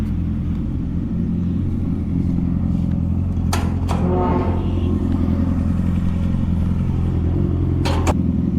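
A motorcycle heard while riding on a tour toward Khanaspur, giving a continuous loud engine rumble with road noise, broken by a few sharp clattering knocks, with no talk.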